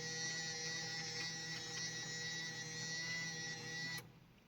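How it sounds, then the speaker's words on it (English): An electric motor driven by a LabView control setup runs with a steady whine and tonal hum, then cuts off abruptly near the end, leaving quieter background noise. "So the motor keeps running"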